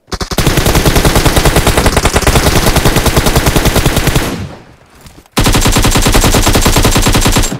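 Sustained automatic gunfire in PUBG Mobile, a loud rapid stream of shots that cuts out briefly and then resumes just as dense and close.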